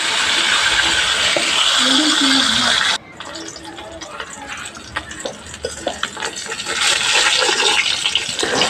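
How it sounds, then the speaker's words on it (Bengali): Fish fries in oil after being turned over, a loud broad sizzle that cuts off abruptly, then returns softer with crackling pops and swells again toward the end. "এবার আমি মাছগুলোকে সুন্দর করে ভেজে নিব"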